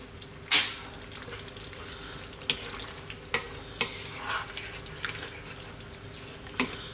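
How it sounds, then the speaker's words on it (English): Creamy garlic chicken and potatoes with fresh basil being stirred in a single pan, a soft steady sizzle under a handful of sharp spoon scrapes and clacks against the pan, spaced a second or so apart. "gonna give this a nice mix"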